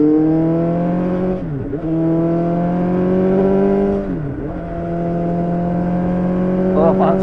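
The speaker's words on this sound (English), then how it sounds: "take this machine out for a spin as it stands, with the Black Widow headers and the, well, standard BMW silencer" A BMW S1000XR motorcycle fitted with Black Widow headers and the standard BMW silencer rides at a loud, steady engine drone. The pitch drops briefly twice on gear changes, then climbs again, with a faint voice near the end.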